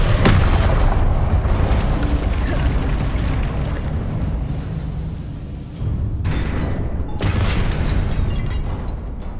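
The Incendio fire spell in the Hogwarts Legacy video game erupts in loud, dense bursts of roaring flame and booming impact noise, sustained throughout with brief dips and renewed blasts.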